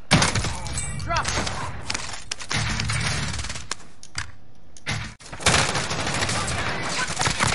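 Dense gunfire in a shooter video game, continuous loud bursts of rapid shots with a brief near-silent gap before the firing resumes, close and harsh throughout.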